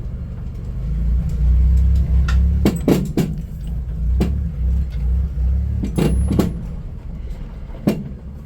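A 1991 Dodge Grand Caravan minivan drives under its own power, a steady low engine rumble and road drone with several sharp clunks and knocks scattered through, fairly close.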